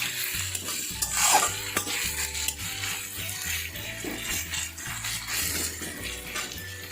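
Onions and potatoes stir-fried in a pan for poha, with steady rhythmic scraping and clattering of a spoon against the pan and a low repeating pulse underneath, close up with no talking.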